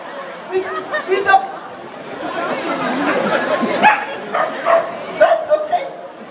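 A Silken Windsprite dog gives a series of short yips and barks with some whimpering, close and fairly loud, mixed with people chatting nearby.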